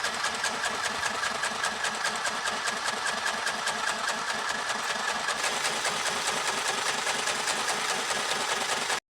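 A sewing machine stitching layered pairs of fabric petals for a flower made from recyclable materials, with a steady rhythmic needle clatter and motor whir running nearly nine seconds without pause.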